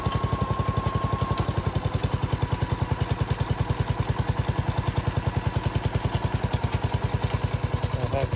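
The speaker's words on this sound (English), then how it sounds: "The tractor's running, and we'll get the hydraulics" A small tractor's engine runs steadily nearby, its rapid, even chugging firing pulses continuing throughout with a mechanical clatter and no talking.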